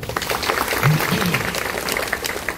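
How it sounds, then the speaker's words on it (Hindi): An audience at a Sant Gadge Baba death-anniversary festival in India applauds with dense, continuous clapping that holds steady throughout, with no pause. "तो आज नानजी भाई सेवा देते हैं, अपने खुश होके उनकी शुक्रिया अदा करनी चाहिए ताली बजाके."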